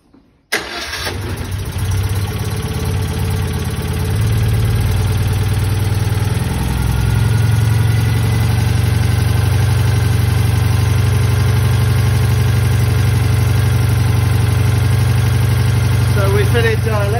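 A Citroën Dyane's original engine, rebuilt with a rebuilt carburetor and electronic ignition, cranks and catches, then idles steadily and loudly up close, its low rhythmic thrum settling and slightly rising over time.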